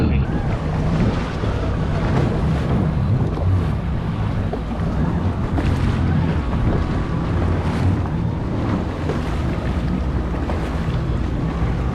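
Jet ski engine running on open water near a shipwreck in Turks and Caicos, a steady loud drone mixed with heavy wind buffeting and wave wash throughout, with brief faint voices underneath.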